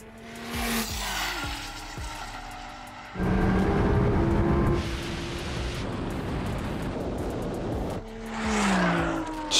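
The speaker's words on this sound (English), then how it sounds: "at some stage the GTR just takes off" A 1900 bhp Nissan GT-R accelerates hard, its loud engine roaring and surging with rising gear pulls, a brief shift break, then a renewed wide-open howl and another upshift near the end.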